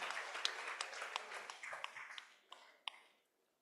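Audience at a Lagos technical and business association meeting applauding a sponsor, a modest scatter of claps that thins out and fades to silence near the end, fairly distant.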